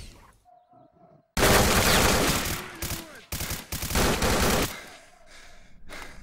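Gunfire from S.T.A.L.K.E.R. Call of Pripyat: loud, dense bursts of shots in quick succession, broken by brief pauses and quieter in-game ambience between volleys.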